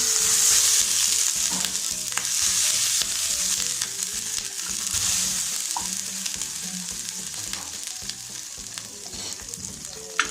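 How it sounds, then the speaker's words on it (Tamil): Activated charcoal dosa batter sizzles on a hot griddle stone, a steady hissing fry with occasional light scrapes, close and unbroken. "இப்போ நம்ம தோசை ஊற்றிடலாம்"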